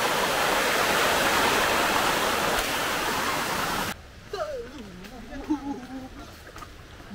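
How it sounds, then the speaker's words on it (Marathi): Rushing water at the Vajrai waterfall near Satara, a dense, loud roar filling the first half, then cut to quieter surroundings with a voice and faint background sounds. "पाणी किती आहे इथं, पाण्याचा फ्लो किती आहे."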